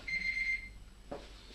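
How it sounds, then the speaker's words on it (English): A homebrewing timer alarm sounds: a single steady high electronic tone held for about half a second, followed later by a short soft clunk. "Alright, that's the timer."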